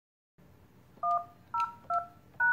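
Keypad tones from a Polycom IP desk phone dialing a voicemail code, four short, clear dual-tone beeps spaced evenly over a faint room hum.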